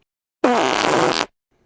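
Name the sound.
fart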